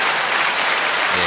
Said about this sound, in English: Can we get a round of applause just for that?